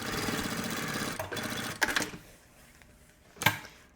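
A sewing machine runs a fast, even stitching burr while sewing seams on a puffer backpack, then stops, followed by a few sharp clicks and handling knocks close by.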